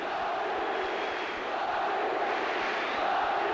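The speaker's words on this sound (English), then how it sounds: "The crowd here absolutely passionate." A passionate crowd roars at a 1994 weightlifting championship as Turkey and Greece compete, a loud, dense, continuous wall of cheering and shouting from a large arena audience.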